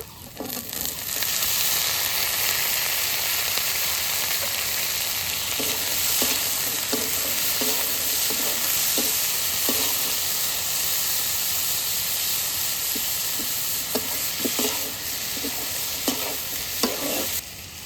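Cut potatoes frying with softened onions in a pan, giving a steady close hiss and sizzle with scattered clicks of a utensil stirring them, continuous and unbroken by speech.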